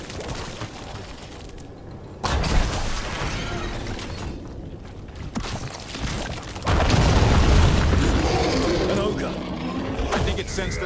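In the game Dragon Age: The Veilguard, a ballista fires two heavy, booming shots a few seconds apart, each a loud burst rising over a dense, rumbling battle soundscape.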